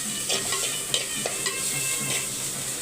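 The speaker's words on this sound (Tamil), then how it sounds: "இப்போ வெங்காயம் பாதி வதங்கிடுச்சா தக்காளி சேர்த்துக்கலாம்" Onions sautéing in a pan as the base for Tamil-style tomato rice, giving a steady soft sizzle with light stirring scrapes and a few sharper clicks, close and continuous with no talk.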